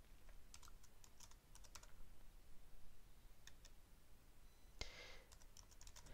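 Computer keyboard typing heard as soft, scattered key clicks in short clusters over a faint background hiss, with a slightly louder tap partway through, fairly close and quiet.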